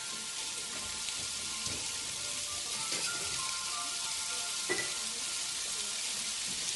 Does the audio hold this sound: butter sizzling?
yes